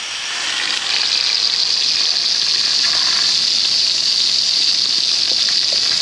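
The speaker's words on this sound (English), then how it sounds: "I'm going to go ahead and turn the water on here and flush this line out." Water gushes through a Dash 8 fuel line in an LSx fuel system being flushed, a loud continuous rushing hiss that swells in over the first second and then holds steady.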